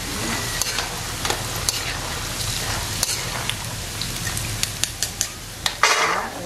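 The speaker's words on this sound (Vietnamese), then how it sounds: "Chiên cho nó nở lên hả bác?" Crispy pasta fries in hot oil with a loud, steady sizzle, and sharp pops and crackles grow more frequent toward the end.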